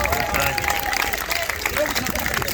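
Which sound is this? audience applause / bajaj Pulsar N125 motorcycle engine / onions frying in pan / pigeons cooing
audience applause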